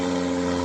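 A propeller airplane flying overhead, a steady droning engine hum that fills this short moment near a kayak on the water.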